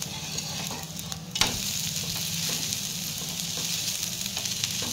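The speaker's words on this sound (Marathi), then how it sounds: "आता आपण आपला डोसा पलटी मारून घेऊ।" A fasting-style dosa sizzles steadily on a hot pan just after being flipped, a continuous close frying hiss with one sharp clack of the spatula early on and no voices.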